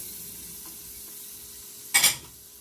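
Chopped onion and celery tipped into a pan of hot olive oil and butter, a soft steady sizzle that bursts into a loud, crackling hiss for a moment before settling back down.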